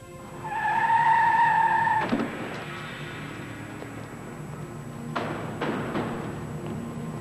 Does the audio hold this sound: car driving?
yes